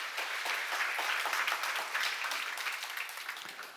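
Congregation applauding at a church seminar, a dense, steady wash of many hands clapping throughout, fairly soft and distant, fading slightly at the end with no talk over it.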